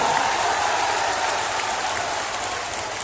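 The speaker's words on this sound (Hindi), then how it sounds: "जोर से ताली बजाओ हिरणमय जी के लिए जरा" A crowd at a BJP election rally in Shyampur claps for the party's candidate, a steady wash of many hands that stays loud and even and fades slightly toward the end, with no voices over it.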